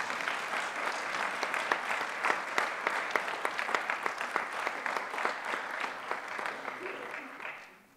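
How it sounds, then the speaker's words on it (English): Audience applause honoring four new members at a college awards ceremony, crisp individual claps forming a moderate, steady round that fades out at the end. "One last round of applause for our four new members."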